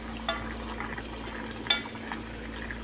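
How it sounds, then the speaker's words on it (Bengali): A vegetable curry simmering in a pot, stirred with a few soft scrapes and clicks over a low, steady bubbling and a constant background hum. "আবারও আমি এটাকে ঢাকনা খুলে আর একটু নাড়াচাড়া দিয়ে নিচ্ছি"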